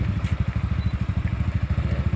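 A motorcycle engine running at a steady idle on a riverside nature ride near a water irrigation area, its low, even pulsing beat close and clear with a light mechanical clatter.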